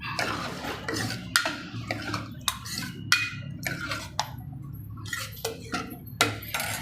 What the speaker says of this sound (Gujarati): આવી રીતે બધું મિક્સ કરી દેવાનું